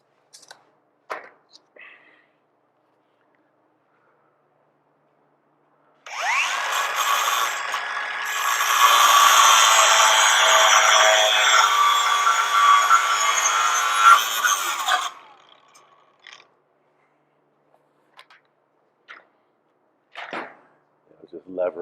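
A power tool saws through a part on a 1968 VW radical custom in one loud, steady, rasping cut of about nine seconds, with brief clanks and handling noises before and after.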